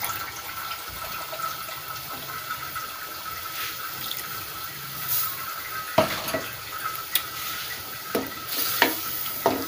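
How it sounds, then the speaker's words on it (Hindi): Chicken korma fries in a pot with ground onion and yogurt, a soft sizzle with spoon scrapes and clinks against the pan growing more frequent toward the end, close by and without speech. "ये बस थोड़ी सी देर हम इसको इसके साथ भून लेंगे"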